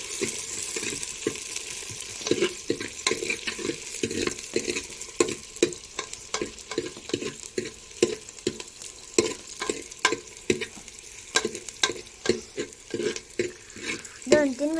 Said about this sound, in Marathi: हा कांदा टाकला आहे आता आपण हलवायचं आहे